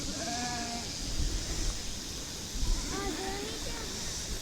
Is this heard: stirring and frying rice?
no